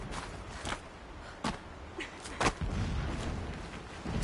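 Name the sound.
distant explosions in the video game Horizon Zero Dawn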